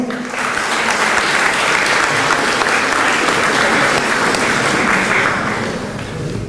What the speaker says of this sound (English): So give a round of applause for yourself.